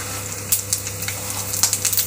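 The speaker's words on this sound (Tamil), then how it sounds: "பாருங்க, ஆயில் வந்து ஹீட் ஆகிடுச்சு. நான் கடுகு போடுறேன்" Mustard seeds crackle and pop in hot oil, sharp scattered snaps over a low steady hum.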